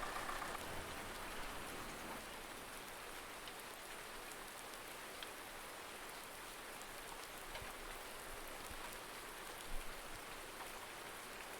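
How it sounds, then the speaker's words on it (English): Rain falls steadily in a farming simulation game, a dense, even hiss of drops on surfaces holding at a constant level throughout with no voices. "It might just be a day spent watching the rain."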